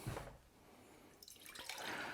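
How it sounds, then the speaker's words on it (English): Water is poured into small glass pickling jars, a soft trickling and dripping splash that rises and falls in short bursts, fairly quiet and close. "put water into these"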